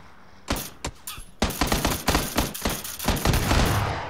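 Sniper gunfire in PUBG, sharp loud shots cracking out in an irregular burst of several rounds, some close together, with thuds and rattles between them.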